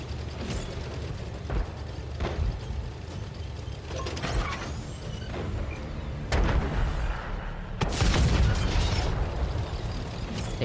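Tank cannon fire during a tank battle game, sharp heavy blasts among mechanical clanking and rumbling, with a big close report near the end over a steady background din.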